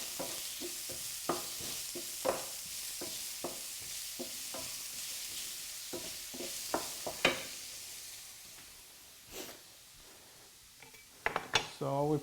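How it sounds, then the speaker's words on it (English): Onions and garlic sizzling in a pan, a gentle steady hiss broken by repeated utensil clicks and stirring scrapes against the pan, with a cluster of sharper clatters at the end. "put your onions and your garlic in the pan"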